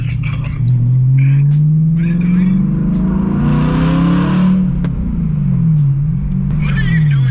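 A BMW E92 M3 drifting in the rain revs its engine hard, the pitch climbing smoothly then dropping and wavering, loud and close, with a burst of spray-like hiss midway and voices talking over it.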